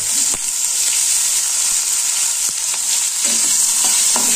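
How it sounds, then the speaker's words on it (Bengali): Onions frying in a hot pan for a fish curry, a loud steady sizzle with occasional ticks and spoon taps as they are moved around, close up with no talking. "এবার আমি পেঁয়াজগুলো দিয়ে ভেজে নেব।"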